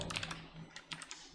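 Keys clatter on a computer keyboard while working in the VSCode editor, a quick run of light, close taps in an irregular rhythm with a few pauses, heard alone in a quiet room.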